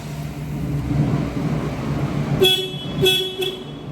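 A series of short horn honks from a Takeuchi 1.8-ton excavator with an improvised horn button, three bursts in quick succession, loud and close over a steady low engine rumble.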